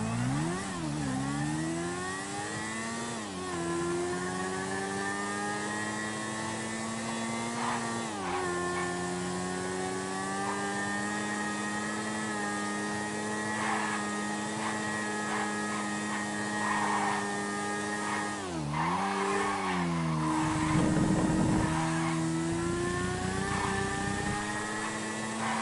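A motorcycle engine in GTA Online revs loudly and continuously while the bike pulls a wheelie, its pitch rising and falling with throttle changes and a brief rough burst near the end.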